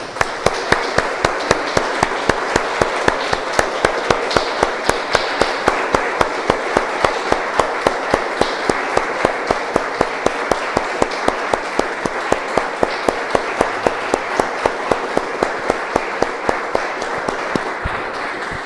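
A church congregation claps in a steady, even rhythm, a fairly quiet run of sharp, regular claps that goes on without a break.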